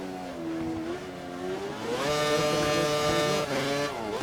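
F5000 race car engines howling around a track in a racing game, a loud tonal roar that climbs and drops through gear changes and revs higher near the end.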